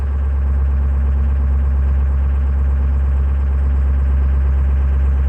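A car engine idles under diagnosis, with a steady, loud low rumble that holds even and unbroken throughout, no voices over it.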